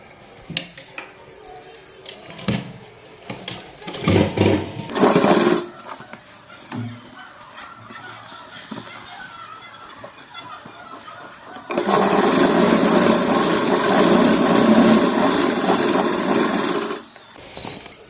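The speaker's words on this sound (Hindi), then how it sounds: "अब इसको भी हम सिलाई कर लेंगे।" Sewing machine stitching a Patiala salwar, with softer handling and scattered taps first, then a loud, steady whirring run of stitching that holds for about five seconds before stopping abruptly.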